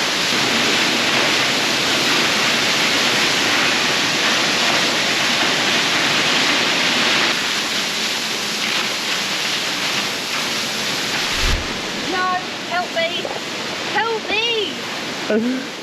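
Close, steady roar of a Yorkshire waterfall that can be walked behind, a dense continuous rush that fades toward the end, where chirping sounds appear over the quieter water.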